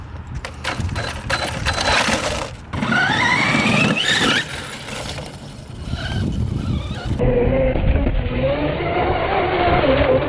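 A small RC car with wooden wheels driving upside down, giving loud rattling, scraping clatter and whirring motor squeals at close range, with abrupt changes as it moves.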